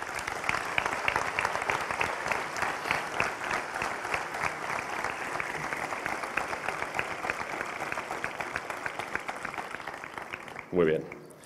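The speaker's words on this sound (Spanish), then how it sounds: "un fuerte aplauso para ellos." A large crowd applauds at a town's patronal festival opening speech in Spain, a long, dense roar of clapping that holds steady before cutting off abruptly near the end with a short burst of sound.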